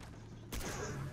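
A single sharp gunshot in the video game Far Cry 3, a sudden loud blast about halfway through followed by a brief rumbling decay.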